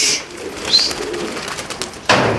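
Pigeons at a pigeon festival in Serres coo and call up close, with a sudden burst of wing flapping near the end, heard alone without talk.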